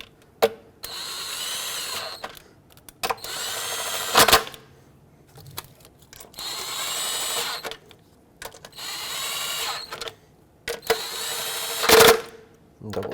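A power tool whirs in repeated bursts as intake manifold bolts on a 2011-2019 Ford Explorer are run down snug, five loud close spins separated by pauses with someone talking in between.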